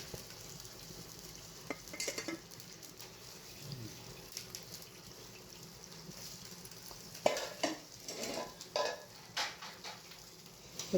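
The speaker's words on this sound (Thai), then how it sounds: "เนี่ยเอาน้ำใส่เอาน้ำมันใส่แล้วก็ผักเนี่ยลงไป นี่เลยลวกเลยนะคะ" Vegetables stirred in a pan with water and oil, producing a soft ongoing sizzle with bubbling and scattered scraping and clinking of a utensil, growing busier toward the end.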